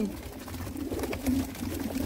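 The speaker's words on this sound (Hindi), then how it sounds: "कम से कम सौ के लगभग कबूतर हैं" Pigeons coo at a bird sale in Jammu, low soft throaty calls rising and falling up close among a crowd of birds, with faint background voices.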